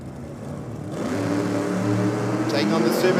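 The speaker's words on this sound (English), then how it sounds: "Whitmore in the Chevy Nova. Blown 400 cube small block." At a drag strip, a blown 400-cubic-inch small-block Chevy Nova faces a supercharged Datsun, and the engines swell into a loud, rising roar under an announcer's running commentary.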